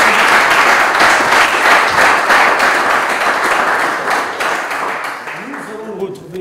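Audience applause at a live game event in Lubumbashi, a dense and loud burst of clapping from a crowd that holds steady, then slowly thins and fades toward the end.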